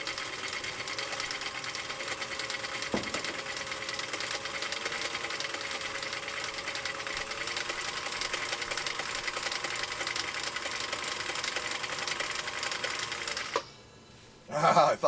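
A Husqvarna Viking CI 21A sewing machine stitching with a Schmetz chrome needle, running as a steady fast mechanical whir for about thirteen seconds before stopping abruptly, followed by brief handling noise.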